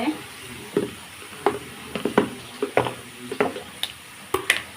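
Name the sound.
ginger paste frying in a pan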